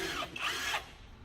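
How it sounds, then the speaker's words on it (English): An impact wrench removes the two 15 mm tensioner bolts on a 2005 Silverado 2500 6.0, one short faint whirring burst under a second long, then quiet. "we're gonna get our impact and pull these out."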